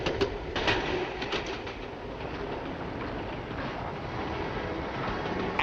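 A diesel train runs along the rails with a steady rumble and faint rhythmic clicking of the wheels, sounding somewhat distant and even throughout.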